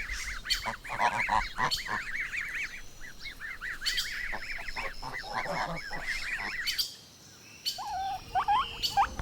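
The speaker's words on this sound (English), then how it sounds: "goose" A goose honks loudly and repeatedly in quick, uneven bursts at close range, with a brief pause near the end before a few more calls.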